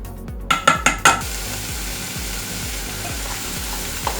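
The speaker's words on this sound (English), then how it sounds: "here we are stir frying the veggies" Vegetables stir frying in a pan for picadillo, a steady sizzle with a burst of four sharp utensil scrapes and clinks near the start, then continuous frying alone.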